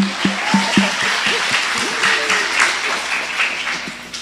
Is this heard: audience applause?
yes